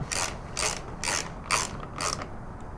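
Ratchet wrench tightening the air filter element bolts on a Harley-Davidson Road Glide Special during an S&S Stealth stage 1 intake install: five quick clicking bursts in a steady rhythm, close and clear against a quiet background.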